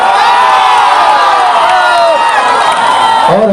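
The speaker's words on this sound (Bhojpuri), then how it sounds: "भाई को जोरदार ताली हो जाए हो" A dense crowd at a political rally in Bihar roars and cheers, with whoops and shouting voices over continuous loud applause, sustained and close throughout.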